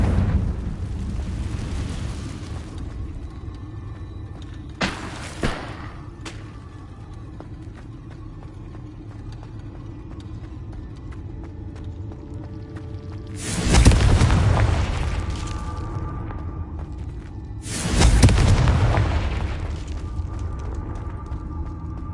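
Two heavy, booming blasts from the Confringo fire spell in Hogwarts Legacy erupt loud and close, a few seconds apart, over a low game ambience with a couple of small pops earlier.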